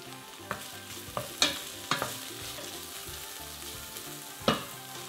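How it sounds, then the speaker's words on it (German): Onion, garlic and tomato strips sauté in a pot over medium heat, a continuous sizzle broken by several sharp stirring scrapes and knocks. "Ein bisschen umrühren und für ca. 3 Minuten bei mittlerer Hitze andünsten"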